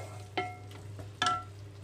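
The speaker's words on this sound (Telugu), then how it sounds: "మధ్యలో ఒకసారి మూత తీసి కలుపుతున్నానండి" Spinach curry is stirred in a pan as the lid comes off, giving two sharp metallic clinks against a quiet low hum, close and brief, with no voices.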